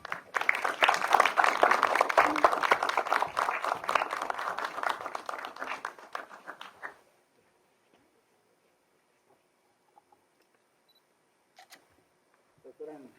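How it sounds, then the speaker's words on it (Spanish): Applause from the audience at a science talk event honoring a speaker, a dense, loud burst of clapping that fades out after about seven seconds, followed by near silence with a few faint clicks. "para quien solicitamos un fuerte aplauso"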